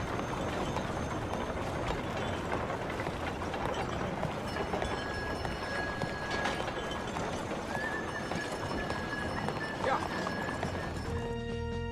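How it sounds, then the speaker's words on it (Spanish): Horse galloping in the video game Red Dead Redemption 2, rhythmic hoof clip-clop with an occasional whinny, moderately loud under busy game ambience. "un ejemplo que resulta muy atractivo es la cabalgata del caballo, donde se propone representar esta situación con el propio sonido del caballo galopando"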